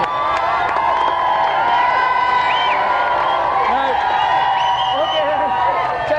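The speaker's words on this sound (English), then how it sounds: "Round of applause for David." A television game show studio audience claps and cheers for racing driver David Coulthard, a dense, sustained crowd roar with whoops, close and loud throughout, while a presenter speaks over it.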